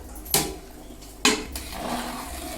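A spoon scrapes and clanks against a pot while rice and pre-cooked mutton biryani is stirred at a village fair, two sharp metallic strikes followed by a softer rustle, close and alone.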